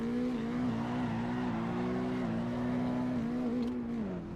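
Car engine in Assetto Corsa EVO holding a steady, loud, sustained drone with slight pitch wavers as clutch kicks keep it revving through a drift, heard alone throughout.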